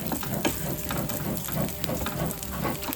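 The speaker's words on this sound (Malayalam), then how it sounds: "തേങ്ങ ഒന്ന് മൂത്ത് വരുന്നുണ്ട്" Coconut pieces fry in a pan, giving a dense, steady sizzle with faint crackles throughout, close and continuous.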